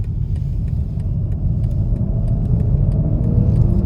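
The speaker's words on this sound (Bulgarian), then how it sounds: "Колата тръгва без проблеми, макар че е голяма." A large BMW X5 SUV with a B58 mild-hybrid engine pulls away, its steady low engine rumble and tyre roar building gently and continuously, loud and close from inside the cabin.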